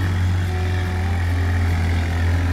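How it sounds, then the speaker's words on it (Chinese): The engine of a Nichino Cheetah IE 250 farm utility vehicle runs loud and close, a steady low drone at high revs with no talk over it. "你会听到它引擎声比较大声"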